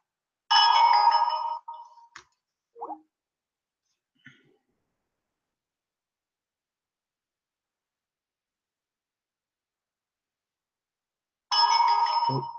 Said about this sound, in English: Phone's going berserk at the moment.